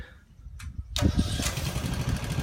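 A machine engine cranks over and catches about a second in, then runs steadily at close range while a stoop is being lifted during work on settling footings and walls.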